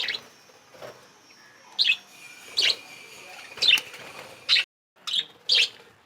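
Lovebirds kept in a colony breeding setup chirp near their cage in short, sharp bursts, about six bright calls spaced a second or so apart, close and clear over faint background noise.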